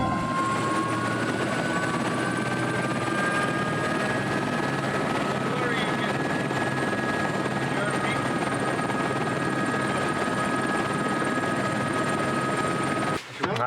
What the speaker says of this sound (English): I feel privileged today to have this flight with this great helicopter.